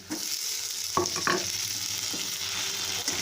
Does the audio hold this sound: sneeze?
no